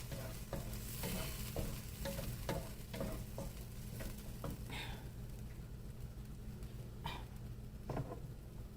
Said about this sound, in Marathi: आणि हे वाटप सुद्धा असं मस्त गोळा होईपर्यंत चांगलं ढवळून घ्यायचं.